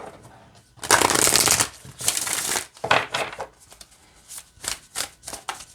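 Oracle cards being shuffled in several riffling bursts, crisp and close, with pauses and shorter flicks toward the end.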